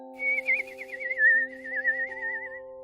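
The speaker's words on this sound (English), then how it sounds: "And Fairlise gave a whistle." One long warbling whistle rises, then wavers downward for about two and a half seconds, fairly close and clear over soft sustained musical tones.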